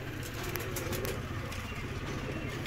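Pigeons coo softly and steadily, their low murmuring continuous throughout, with faint chirps and occasional wing sounds mixed in.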